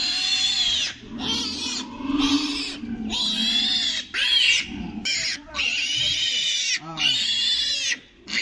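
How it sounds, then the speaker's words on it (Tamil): Three-day-old piglets on a farm, not yet teeth-clipped, squealing loudly and shrilly in repeated close bursts with brief gaps between them; someone talks over the noise. "இந்த பன்னிக்குட்டிலாம் பிறந்து 3 நாள் தான் ஆகுது."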